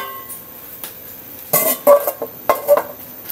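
A metal lid is set onto a cooking pan of sautéed vegetables, giving a few loud clattering clanks and scrapes of metal on metal after a quieter start.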